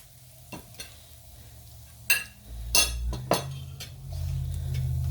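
Spatula scraping and clinking through fried veggies and onions in a pan, a few sharp scrapes over a low, steady sizzle, close and fairly quiet with no talk.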